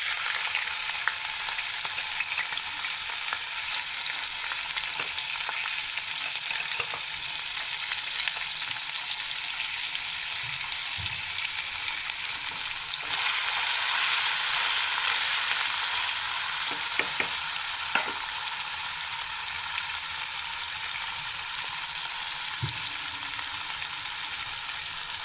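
Grated coconut frying in oil with cumin seeds and bay leaves, a steady hissing sizzle that runs on for a long time, with occasional faint stirring clicks, moderately quiet and close.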